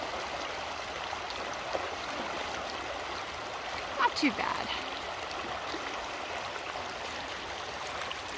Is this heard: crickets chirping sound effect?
no